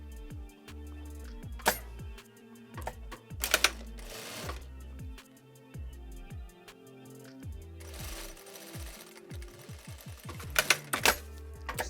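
A sewing machine stitching a hole closed in a knit beanie, its needle running in short rhythmic bursts with stops and starts in between, close and fairly quiet, with no talking.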